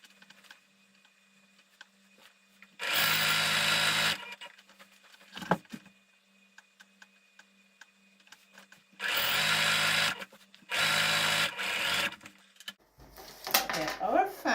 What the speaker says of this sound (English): now I am going to go ahead and I'm going to stitch the double hem